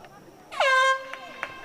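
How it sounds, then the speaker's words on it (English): A loud air horn blasts once for about half a second at a high school field hockey game, marking the end of a quarter, a bright harmonic tone that cuts off sharply above a noisy crowd background. "An air horn was sounded for I believe"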